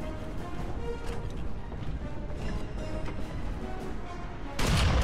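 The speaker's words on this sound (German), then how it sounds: "genau in dem Moment, wo ich abdrücken will, trifft mich der Schuss und killt meine Besatzung" A tank shell slams into the player's tank in War Thunder on the Festung am Weißen Felsen map, a sudden loud crashing impact bursting out near the end after a stretch of rumbling engine and battle noise.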